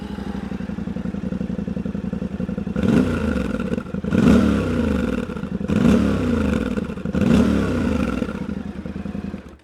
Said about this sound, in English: let's fire it up and see how this stock exhaust sounds